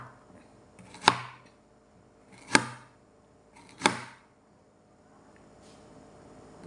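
Three sharp knife strokes through onions and carrots on a cutting board, evenly spaced about a second and a half apart, close and crisp against a quiet kitchen background, with a softer fourth tap at the end.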